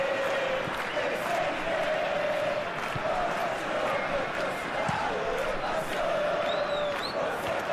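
Football stadium crowd at a Campeonato Goiano 2024 match, Morrinhos versus Atlético Goianiense, a continuous roar of chanting and shouting with whistles, steady and loud throughout, with a commentator's voice faintly under it.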